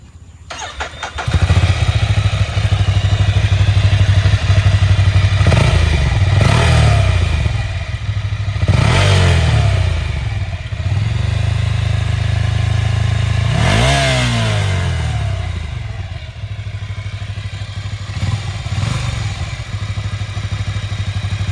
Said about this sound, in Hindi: चलो तो पहले स्टॉक एग्जॉस्ट का साउंड देख लेते हैं